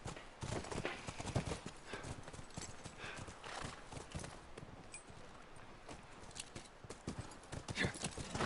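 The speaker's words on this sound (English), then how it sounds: "Come on, back to the horses." In the video game The Last of Us Part II, horse hooves clip-clop in a steady walking rhythm across the whole stretch, close and clear, with a faint whinny among the hoofbeats.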